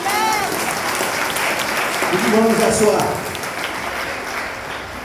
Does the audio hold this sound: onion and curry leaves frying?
no